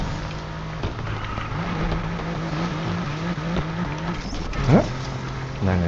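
An Alfa Romeo Giulia built for drifting revs and accelerates in the racing game NFS Unbound, its engine note rising and shifting through gears, with brief tire squeals and a sharp rev burst near the end.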